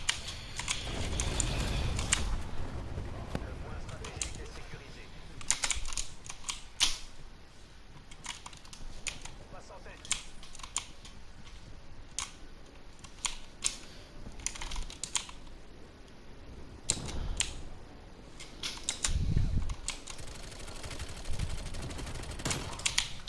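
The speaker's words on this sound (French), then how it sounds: "Je fais une petite séance ASMR en même temps que mon clavier vu qu'il est mécanique." Rapid, crisp clacking of keys on a mechanical computer keyboard runs throughout, close and steady, with louder thuds and faint gunfire bursts from a Call of Duty Cold War game in the background.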